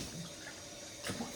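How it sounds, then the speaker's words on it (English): Water runs from a tap into a sink in a soft steady stream while someone washes their face, with a brief louder splash near the end. "Wash my face off"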